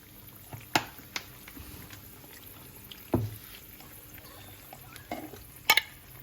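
Tempering for dal, a mix of garlic, cumin and mustard seeds, fries in oil in a pan, giving a quiet low sizzle under scattered clinks and scrapes from stirring, with a few sharper spatters.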